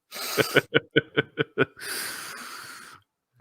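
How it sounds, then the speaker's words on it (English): Seven quick, sharp sniffs in a row, then a longer forceful snort through the nose to clear the sinuses, close to the microphone. "I'm also trying to clear my sinuses, but also sniff at the same time."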